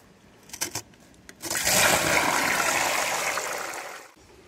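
Water gushes steadily out of the drain of a Hayward SwimClear C5030 cartridge pool filter, a broad continuous rush lasting a few seconds after a couple of clicks, then cutting off.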